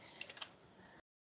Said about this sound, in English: my typing also slow today